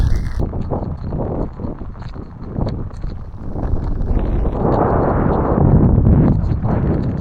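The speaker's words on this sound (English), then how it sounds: "Ooh, that wind is really getting me right now." Strong wind sweeps high in a snowy mountain range, a rough, continuous roar that buffets the microphone and swells louder toward the end.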